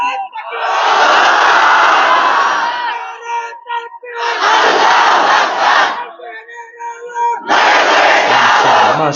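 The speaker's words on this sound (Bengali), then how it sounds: "তাকবীর দেন, নারায়ে তাকবীর দিবেন।" A crowd roars the Takbir call in three loud, sustained collective bursts, each lasting a couple of seconds and separated by brief pauses, with a voice leading between them.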